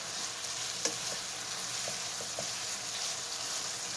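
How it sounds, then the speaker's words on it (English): A thickening dressing syrup for German potato salad with bacon, cooking in a pan while being stirred, makes a continuous bubbling sizzle with a few soft spoon clicks and one sharper tap near the start. "I'm just going to stir it"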